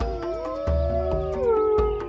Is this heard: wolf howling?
yes